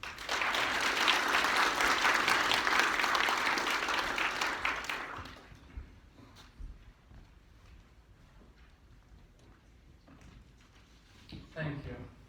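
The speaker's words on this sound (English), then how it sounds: "Give him a round of applause." A conference audience applauds a speaker with dense, loud clapping for about five seconds, then it quickly dies away into a quiet room with faint shuffling and a voice starting up near the end.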